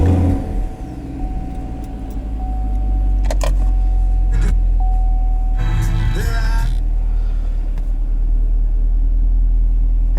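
A 2020 Chevrolet Camaro SS engine runs at a steady, loud, deep idle, a close low rumble broken by a few brief clicks and knocks.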